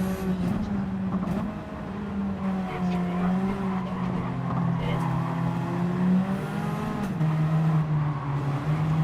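Race car in a no-assist league sim racing game locking its brakes under heavy braking, a continuous engine drone with tire skid squeal sliding in pitch, steady and close throughout.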